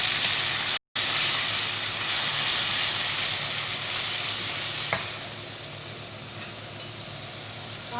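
Onion frying in a pan gives a loud, steady sizzle and hiss, briefly cut by a short dropout, with a single scrape midway before the frying noise settles a little quieter.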